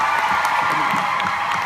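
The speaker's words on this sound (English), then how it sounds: "Everybody, round of applause." A convention audience breaks into applause and cheering, a dense continuous wash of clapping with scattered whoops, loud and sustained.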